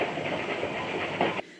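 Rushing, hissing train sound effect with a rhythmic rumble in a toy theater show, loud and steady before cutting off abruptly near the end.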